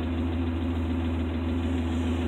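An old 1985 Ford Ranger engine that burns oil and has an exhaust leak runs at a steady idle, giving a continuous low rumble with an unchanging drone and no voices.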